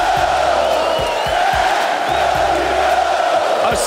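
A UFC arena crowd swarming and cheering a champion after a fight, a dense continuous roar of cheers and shouts with thumping impacts close to the microphone.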